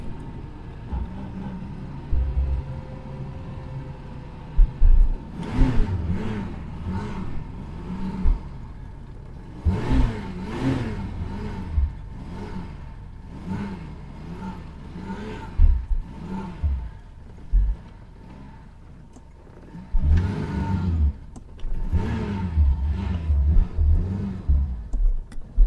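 A Reliant car's engine catches after the ignition is switched on, then revs repeatedly in uneven surges over a steady idle, loud and close, with no talking.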